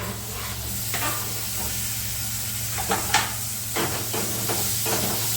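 Chopped tomatoes sauté in a hot pan with a constant hissing sizzle, punctuated by several quick clatters of stirring over a low background hum.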